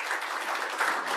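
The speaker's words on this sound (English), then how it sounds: "I was waiting for the applause." An audience applauds at a showcase session, a dense, steady wash of clapping held for the whole stretch, even in level and heard at a moderate distance.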